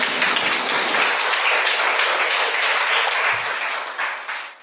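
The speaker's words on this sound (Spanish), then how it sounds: "Dele ese fuerte aplauso al Señor" A church congregation claps loudly and continuously, a close, full burst of applause that tapers slightly near the end before cutting off.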